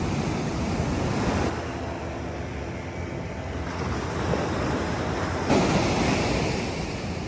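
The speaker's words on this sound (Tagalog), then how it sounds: "Rinig na ang malalakas na alon." Loud ocean surf rolls in steadily at San Juan, La Union, with a continuous wash of breaking waves and some wind buffeting the microphone, no voices.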